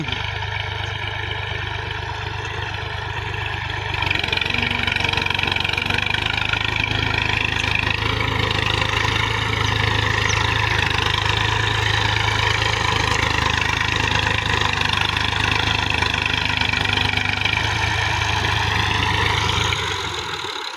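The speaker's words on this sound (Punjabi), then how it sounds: "ਬਾਕੀ ਟਰੈਕਟਰ ਦਾ ਤੁਸੀਂ ਮਾਸ਼ਾਅੱਲਾ ਸਾਊਂਡ ਚੈੱਕ ਕਰੋ ਕਿਵੇਂ ਦਾ ਵਾ, ਜ਼ਬਰਦਸਤ।" A brand new Massey Ferguson 240 tractor engine runs steadily at idle for the whole stretch, a close, loud, even diesel throb with a slight rise in level after the first few seconds and no talk.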